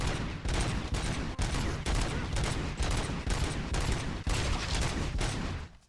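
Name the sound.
robot enemies shooting guns in RoboCop: Rogue City video game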